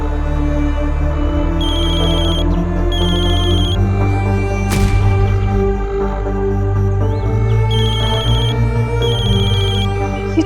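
A phone ringtone plays loudly and alone, with repeated bursts of a bright electronic tone in a steady on-off rhythm over a sustained musical backing.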